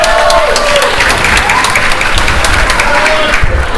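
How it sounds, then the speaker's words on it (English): Wrestling crowd applauding a sling blade in the ring, steady dense clapping and cheering throughout with a commentator's voice running over it. "The crowd showing its appreciation for the magic that we are seeing in the ring right now."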